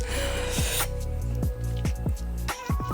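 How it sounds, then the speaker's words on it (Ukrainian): Wet, squishy hand kneading of fish mince for cutlets, a series of soft slaps and squelches at an uneven rhythm, close up, with a steady hum running underneath. "Замішали фарш, змочили руки водою і формуємо котлетки."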